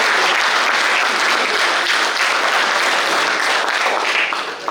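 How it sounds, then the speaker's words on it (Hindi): Loud, sustained applause from a college audience fills the whole stretch, dense and steady before easing slightly at the end. "तो एक बार परिष्कार कॉलेज अपने लिए जोरदार तालियां"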